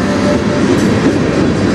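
A CN manifest freight train rumbles steadily past at close range, a continuous low roar of rolling cars with faint rhythmic rail clatter throughout.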